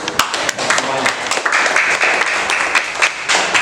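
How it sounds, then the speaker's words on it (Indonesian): Sixth-grade class clapping hands in an elementary school classroom, a loud, fairly brisk round of many small hands clapping close by, starting scattered and settling into a dense steady patter. "Tepuk tangan untuk semuanya."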